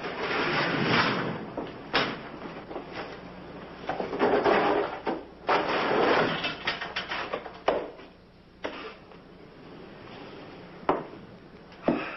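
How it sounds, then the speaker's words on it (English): A door is closed in a jail, with a run of sliding, knocking and clunking noises over about twelve seconds and a few sharper thuds near the end, fairly close and without speech. "You want to close the door?"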